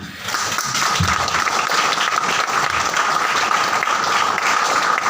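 Audience clapping at an IMC recognition and award seminar in Bathinda: dense, steady applause that starts almost at once and holds at an even, fairly loud level throughout, with no voices over it.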